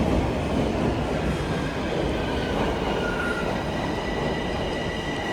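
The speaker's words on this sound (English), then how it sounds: "That's my train, but I'm not going to get on it just yet." A Toronto TTC subway train arrives at the platform of Sheppard-Yonge Station, rumbling steadily at close range, with a continuous low roar of wheels on track and a faint squeal running through it.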